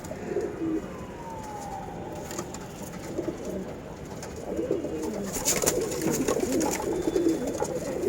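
Flying pigeons kept at a loft in Wari, Dhaka, coo repeatedly at close range, soft throaty calls over a low background hum with a few sharper bursts later on.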